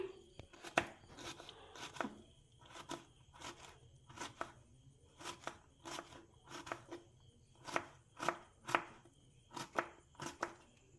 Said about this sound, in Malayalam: നമ്മൾ നീളത്തിൽ അരിഞ്ഞിട്ട് ഇനി ചെറുതാക്കി കട്ട് ചെയ്ത് കൊടുക്കാം